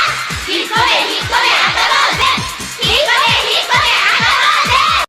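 A crowd of schoolgirls shouting and cheering for a basketball player, a loud, sustained wash of high voices with a row of regular low thumps pulsing underneath throughout.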